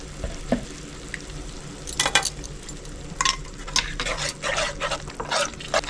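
Chicken roast with cashew paste cooks in a pan with a soft sizzle, broken by close scraping bursts as a utensil stirs it against the metal.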